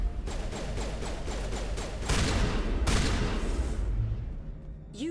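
Gunfire in Mass Effect 1 with shotgun blasts among a dense volley of shots, two heavier booming bursts near the middle, then the firing fades toward a quieter tail.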